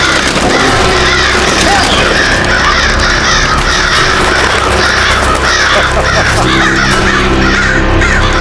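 Many crows caw loudly and continuously in a dense, overlapping chorus set in a royal city of an animated Tenali Rama story, with a dramatic background score running underneath.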